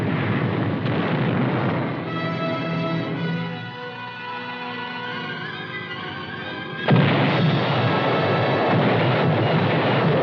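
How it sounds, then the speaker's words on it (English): Heavy preparatory artillery barrage softening up an objective ahead of an amphibious landing, heard as a continuous dense rumble of guns and blasts that swells with a sharper, louder burst late on, in archival 1958 US Army war footage. "First, heavy preparatory fire to soften up the objective."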